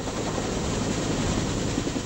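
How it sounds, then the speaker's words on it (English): A Vietnam War-era military helicopter of 1972 roars loudly and steadily as it lifts off. Dense rotor and engine noise fill the clip without a break. "General Holingsworth mounts his personal helicopter, Dynamite 6, and takes to the skies"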